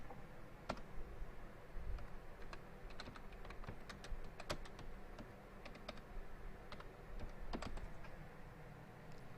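Continuous keyboard typing with scattered sharp key clicks, steady and moderately close, over a low background hum; no voices.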